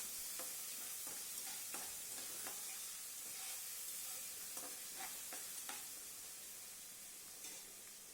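A spoonful of ginger-garlic paste fries in a pan with four or five cinnamon sticks and cardamom, giving a steady close sizzle broken by repeated stirring scrapes, with no voices.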